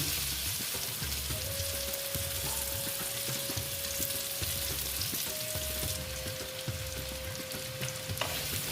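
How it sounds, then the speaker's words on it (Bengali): Cut potatoes fry in a pan of hot oil with turmeric added, a constant close sizzle punctuated by rhythmic spatula stirring and scraping, with no talking. "দেখো আলুটা ভাজছি"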